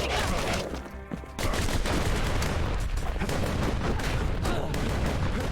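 Enemies in the video game Bastion fire a dense, loud barrage of shots. The volleys are rapid and overlapping, with a short dip before the firing surges back and continues without a break.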